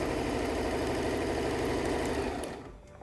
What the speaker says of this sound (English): then as I start to sew, it looks fine